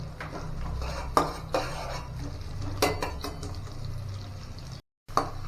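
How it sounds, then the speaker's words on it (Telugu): Sliced onions fry in a pan for a beans curry, with a steady low sizzle under a few sharp clinks and scrapes of a spatula against the metal, heard up close with no voices. "కొద్దిగా అవి ఎల్లో కలర్లో వచ్చేంత వరకు మనం ఫ్రై చేసుకుంటూ ఉండాలా"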